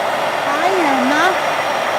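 A hair dryer blows steadily on wet watercolor paint, a loud constant whir up close whose pitch wavers slightly as it is moved, with no talk.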